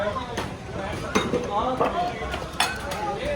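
Dishes and utensils clink and clatter in a few sharp knocks amid steady background noise and murmuring voices, at a Sikh roadside chhabil serving drinks.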